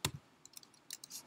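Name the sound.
typing on a computer keyboard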